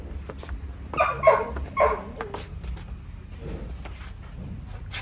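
Several dogs bark a few times in the distance, faint against a steady low background hum.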